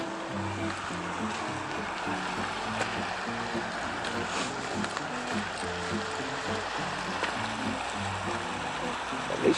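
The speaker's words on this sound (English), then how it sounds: "At least we get to hike by a river." A river flows steadily beside the Las Conchas hiking trail near the East Fork Box, a constant wash of rushing water with faint tonal murmurs mixed in throughout.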